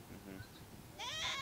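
A goat bleats once, loud and close, in a short quavering call after a second of low murmuring background noise on a farm with small ruminants.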